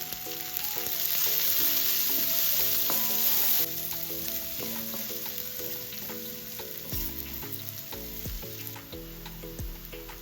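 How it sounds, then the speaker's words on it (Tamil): Chopped onions sautéing in a pan with salt, a strong continuous sizzle and hiss with occasional stirring scrapes and utensil knocks, fairly close, alone without speech. "ஓகே இப்போ வெங்காயம் நல்லா வதங்கிடுச்சு"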